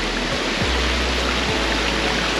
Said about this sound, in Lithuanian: Kaip iš lėto palengva bėga nuo kalnų vanduo.